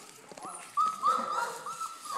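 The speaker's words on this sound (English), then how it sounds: "Look at these pretty, pretty puppies." Puppies whimper and give high-pitched yips and whines near the microphone, a run of several overlapping cries over a couple of seconds.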